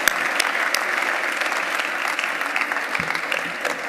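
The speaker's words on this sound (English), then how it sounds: "So with your big round of applause, I'll be inviting him to give his presidential comments" Sustained audience applause at a congress, dense steady clapping from a large crowd, loud and continuous throughout without speech.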